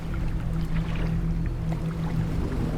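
A boat moving through water in the fishing game Dredge, a steady low engine drone with constant water wash and splashing, unbroken and fairly loud throughout.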